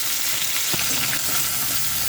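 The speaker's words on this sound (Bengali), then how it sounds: "দেখুন লাল লাল করে ভেজে নিচ্ছি মাছটা" A fish fries in a pan with a continuous close sizzle and hiss, with a few soft crackles and stirring scrapes mixed in.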